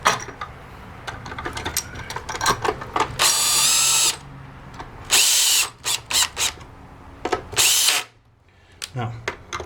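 A power drill drives screws through a metal plate while rebuilding a Polaris 280 pool cleaner, in several loud bursts of whirring and ratcheting separated by short pauses and small clicks of handling.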